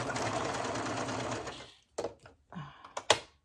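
A sewing machine stitches a Monkey Bar skirt, running in one steady, close, whirring burst for nearly two seconds before stopping, followed by a few sharp clicks and handling knocks.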